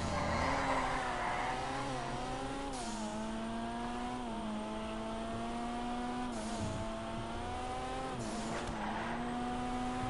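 A Jester sports car in the video game GTA 5 races with a loud, sustained engine whine rising and falling through gear changes, joined by brief tire squeals during hard cornering.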